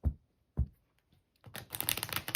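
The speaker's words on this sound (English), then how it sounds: "I'm just going to finish up the shuffling for the reading today" Tarot cards being shuffled by hand for a daily reading: a few soft isolated taps, then a dense, continuous riffling and flicking of cards, close and fairly quiet, with no talking.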